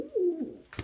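A single soft coo from a pet bird, pigeon or dove type, close by and brief, followed by a short rustle.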